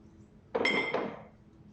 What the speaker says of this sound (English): I'm sure you won't object if I move the ashtray.